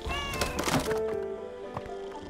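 Cats meowing in the video game Mineko's Night Market: a few short, close meows over soft game music, followed by a sustained tone and quieter background sounds.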